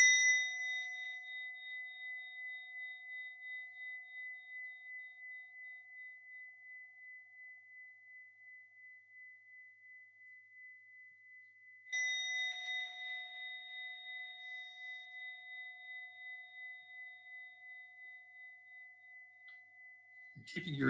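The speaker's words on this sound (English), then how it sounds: "So begin by just listening to the bell." A meditation bell struck twice, each ring a clear sustained tone with steady harmonics that slowly fade, the second strike about twelve seconds after the first, heard alone in a quiet room.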